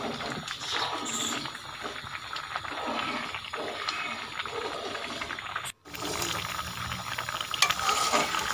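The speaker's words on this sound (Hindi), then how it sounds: "इसका चम्मच चलाते रहना है।" A spoon stirring carrot halwa in a pan as the milk cooks down, steady scraping and soft bubbling sizzle up close, with a brief break midway before the stirring resumes.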